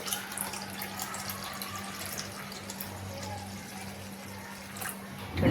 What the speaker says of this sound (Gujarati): હવે આપણે આમાં ઠંડુ પાણી લઈશું